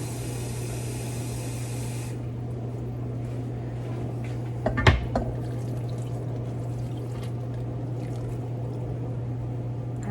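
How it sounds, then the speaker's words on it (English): Water pours into a pot for corned beef hash in a home kitchen, a soft rushing stream for a couple of seconds, followed by a faint hum and a single close clink. "So we might need to add some water, which is totally fine."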